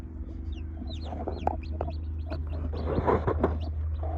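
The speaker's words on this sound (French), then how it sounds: "Nos poules qui couvent avec des petits poussins." Brooding hens cluck softly and repeatedly while chicks peep in quick, high chirps over a low steady hum.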